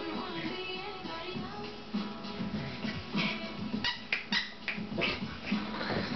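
A black dog whimpers and whines in short, uneven bursts, fairly close, with some rustling and movement in the background and no talking.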